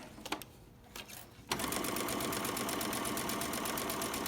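A sewing machine starts up after a few brief taps and runs fast and steady, stitching appliqué onto a Christmas pillow cover in a continuous loud, rhythmic whir.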